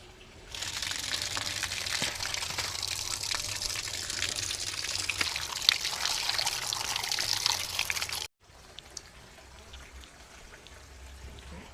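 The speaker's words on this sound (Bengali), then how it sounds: "মাছটা কাটা হয়ে গেল আমি এবার মাছগুলোকে ধুয়ে নেব" Pieces of cut hilsa fish are washed under running water, a close, steady gushing and splashing that cuts off abruptly and gives way to a quieter trickle with faint drips.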